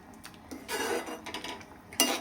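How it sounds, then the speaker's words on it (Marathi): Bitter gourd (karela) curry being stirred in a pan on the stove, a few soft utensil scrapes and clinks against the pan, close and fairly quiet, with a sharper clatter near the end. "एकदा छान मिक्स करून घेते"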